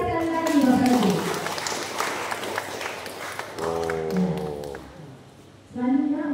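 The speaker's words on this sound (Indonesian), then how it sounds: "Berikan tepuk tangan yang meriah sekali lagi Bapak Ibu." An audience at a credit union cooperative's annual members' meeting in Pontianak applauds in a brisk burst of many hands clapping. The clapping thins out as a voice comes in over it, then returns briefly at the end.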